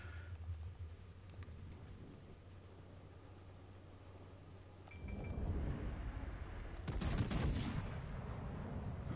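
Heavy naval guns fire in a warship battle video game, deep booming salvos rolling in from mid-distance with a sharp cluster of blasts near the end, over a constant low engine rumble and no talk.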